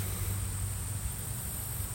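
Honeybees around the entrance of a five-frame nuc hive, a steady, continuous high buzzing hum with a low drone underneath, close and unbroken.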